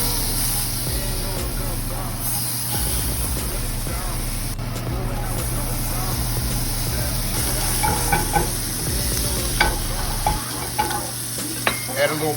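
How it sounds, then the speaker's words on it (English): Shrimp seasoned with Old Bay, paprika and lemon pepper sear in oil in a pan, a steady loud sizzle with occasional scraping and tapping as they are pressed, while a person talks over it. "I'm just sear these shrimp off"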